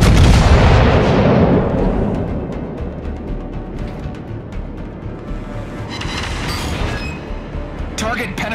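Naval artillery from warships in the World of Warships naval combat game: a heavy opening boom rolls off into a long rumbling decay, followed by more distant salvos and sharp cracks near the end, with game voice callouts over it.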